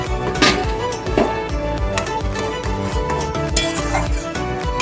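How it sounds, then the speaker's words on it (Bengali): Mola fish and mango curry in a chili-oil gravy, with the fried fish just added to the melted mango, bubbling and being stirred in a pan, with scraping and sizzling under steady background music. "দেখো কেমন টকবকি ফুটছে, আম তো পুরো গলে পাক হয়ে গেছে।"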